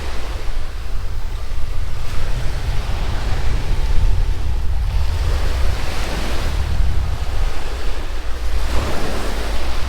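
Steady roar of surf breaking on an undeveloped, quiet beach in Zamboanguita, Philippines, loud and continuous with wind buffeting the microphone and swells rising and falling every couple of seconds.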